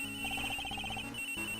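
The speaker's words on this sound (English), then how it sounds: "That sound. It's a cell phone." A cell phone rings in short, repeated electronic trills that sit over a steady background music bed.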